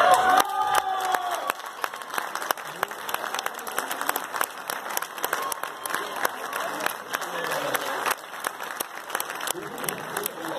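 Crowd at a Mexican sommelier tasting contest bursts into sustained applause and cheering for the winning couple, dense clapping running throughout, with a brief voice near the start.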